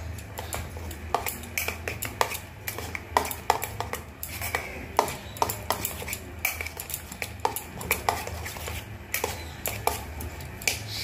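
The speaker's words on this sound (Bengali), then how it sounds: "প্রত্যেকটা জিনিস আমি কিন্তু এরকমভাবে ভালোভাবে ফেটিয়ে নেব।" Fish roe fritter batter whisked in a bowl, with light clinking taps of utensil on dish in an uneven rhythm, quiet and close with no talking.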